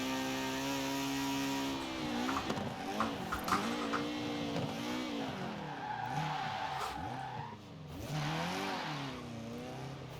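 A 1960 Porsche 718 RS 60 racing in Forza Horizon 4 revs hard through corners, its engine note rising and falling continuously with tire squeal and skidding, loud and steady throughout.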